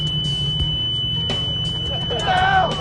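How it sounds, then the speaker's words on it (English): Electronic alarm from a soldier's combat training vest set off by a simulated hit, a steady high beep tone running under speech, with brief warbling chirps near the end. "If a soldier is hit, it triggers an alarm in his West vest."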